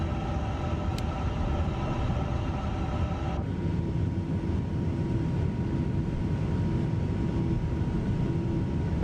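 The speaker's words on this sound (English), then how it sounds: "Let's turn on the second engine and go back there and listen to it." Aircraft engine in MSFS 2024 running steadily, a constant low drone. A higher tonal whine stops partway through and the even hum continues alone.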